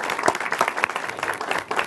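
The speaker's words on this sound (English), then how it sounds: "And let's give him a round of applause if we could," Brief burst of audience applause at a gun violence victims event, crisp individual claps in a lively, uneven patter from a modest crowd.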